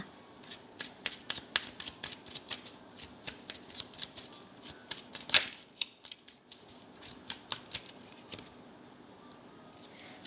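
Tarot cards are shuffled close and alone, a quick run of crisp riffling flicks with one louder snap midway and softer flicks trailing off.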